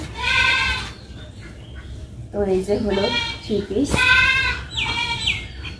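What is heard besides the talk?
goat kids bleating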